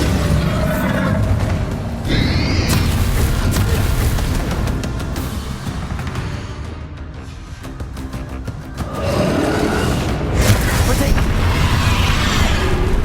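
Bombarda spell blasts in Hogwarts Legacy combat, booming explosive bursts that stay dense and loud through most of the stretch, easing briefly in the middle before swelling again.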